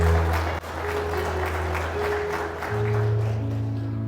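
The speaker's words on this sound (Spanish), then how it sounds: "Aplaudan." A church congregation claps on a Palm Sunday service, a steady dense wash of applause lasting several seconds, with organ or keyboard chords sustained underneath.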